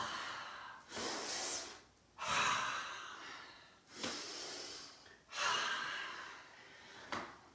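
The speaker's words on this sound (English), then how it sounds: "Inhale and exhale. Keep going. Inhale and exhale." Deep yoga breaths during a power yoga session, close and steady, with about five long alternating inhales and exhales, each breath swelling and fading in a slow, even rhythm.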